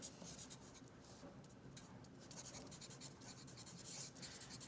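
A pen scratches across paper in fast, overlapping strokes, a close, steady rustling scrape with brief pauses between bursts and no talking.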